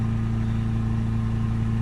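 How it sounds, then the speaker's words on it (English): A Ford Transit Custom 2.2 diesel engine runs steadily near 2500 RPM, a loud, even mechanical drone with a strong low hum and no voices. "We can rev it up to sort of 2500 RPM."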